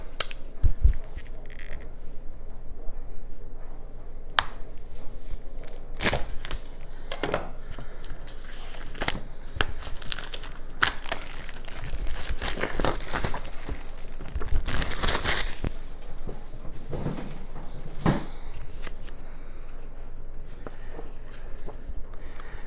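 Cardboard packaging of a Direchasm miniatures box being cut open up close, with irregular crinkling, tearing and scraping bursts spread through a long quiet stretch, and no voices.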